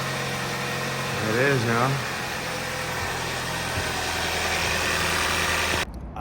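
A 2017 Hyundai Santa Fe 2.0 Turbo engine runs at a steady, close idle just after being started following a starter replacement, with a constant drone throughout while someone speaks briefly over it.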